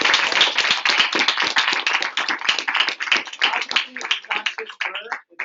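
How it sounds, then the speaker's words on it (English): A group at a Saturday training session applauds, with many hands clapping in a dense, lively burst that thins toward the end. Voices can be heard under the clapping. "Can we give her a round of applause?"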